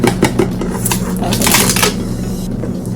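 Metal spoon clinking and scraping against a container while measuring chicken bouillon powder in a kitchen, a quick series of sharp bright taps and rattles, close and fairly loud.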